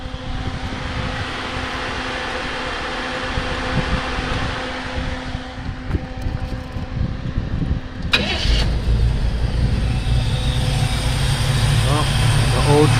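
An old truck engine cranks and catches partway through, then runs with a steady rough rumble; loud, close and continuous, with a person talking over it.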